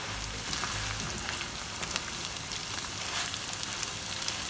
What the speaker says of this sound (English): I've been cooking for about 10 minutes, tossing it around about every 2 to 3 minutes